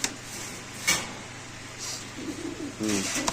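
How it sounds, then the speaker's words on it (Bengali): A male pigeon coos in short, soft bursts at close range, mixed with brief clatter and rustling in a market setting where pigeons are sold. No talk is audible. "এই যে নরের ডাক ফুটে গেছে অলরেডি দেখতে পাচ্ছেন ডাকতেছে"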